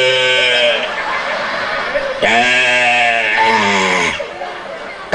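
A man vocally imitates a billy goat, producing long, loud, quavering bleats, a sustained bleat followed by a deeper, wobbling one, with faint chatter behind.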